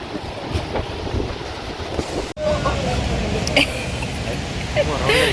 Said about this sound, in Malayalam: കാറ്റടിച്ച് വീഴുന്നു നെയ്മർ